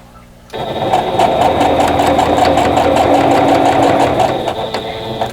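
Sewing machine stitching a quilt block, starting abruptly and running at a steady rapid rhythmic clatter, loud and close, with no talking.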